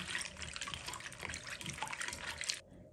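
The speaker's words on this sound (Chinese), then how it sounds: "像我这样来回的用手搓一搓，多搓一会儿，把里面的灰尘全部搓出来。" Food being rubbed and washed by hand in a basin of salted water, giving a steady close splashing and sloshing that runs continuously for a few seconds and then stops abruptly, with no talk.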